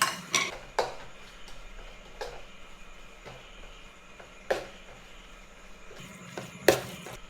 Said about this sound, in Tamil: அப்படியே நல்லா கிளறி விட போறோம்.